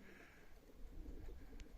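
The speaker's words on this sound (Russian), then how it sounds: "Ну, голубь играет, да и голубка тоже вот она." Pigeons of the Baku breed outdoors in a hard frost and snowstorm, giving a faint low cooing over steady wind-like background noise with no talk.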